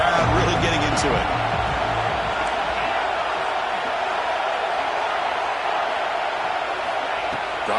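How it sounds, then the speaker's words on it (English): A stadium crowd in the NCAA 25 college football video game roars in a continuous, loud, broad wash of cheering on a third down, with a few sharper bangs early on. "3rd down and the crowd really getting into it."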